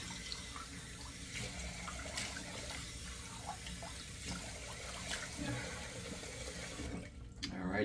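Cold water runs steadily from a bathroom tap in winter, splashing continuously at low level with faint clatter and movement before a brief pause near the end.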